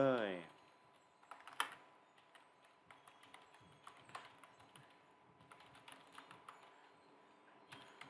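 Someone types on a computer keyboard, entering an email address while setting up an account, producing faint, soft, irregular key taps close by in a quiet room, with a louder clack near the start.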